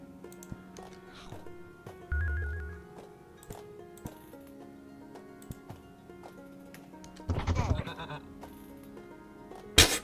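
Goat bleating from the video game Grim Realms, a short nasal bleat heard faintly amid game music and ambient effects, followed later by a louder burst of combat noise.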